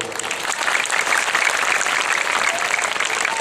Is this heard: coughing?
no